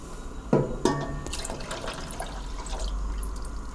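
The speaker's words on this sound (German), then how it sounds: "Jetzt mit 250 ml Wasser aufgießen." Water is poured into a chili cheese casserole after cream and paprika powder, starting with two splashy bursts and then settling into a faint, bubbling trickle.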